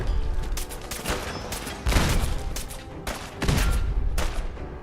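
Gunfire in Fallout 4 modded with Sim Settlements 2, rapid sharp shots in irregular bursts with brief pauses, loud and close.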